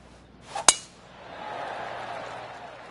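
A golf club strikes the ball in PGA Tour 23, a single sharp, crisp click near the start, followed by a faint airy crowd murmur.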